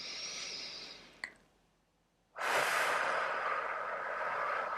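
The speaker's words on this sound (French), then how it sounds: "Vous allez prendre une bonne inspiration et on va souffler à l'expire." A deep exhale during a guided breathing exercise: a breathy sigh fades out, a short pause follows, then a long, loud, close blow of air.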